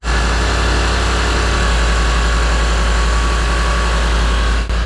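A British car engine idles loudly and close after starting, a steady deep rumble with constant mechanical hum and no talking over it.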